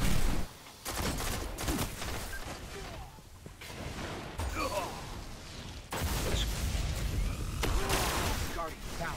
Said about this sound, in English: that's a golden gun